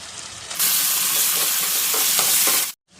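Garlic and ginger paste hitting hot oil with chopped onions in a pan for a jackfruit and prawn curry, a sudden loud, close sizzle that roars steadily for a couple of seconds, then cuts off abruptly.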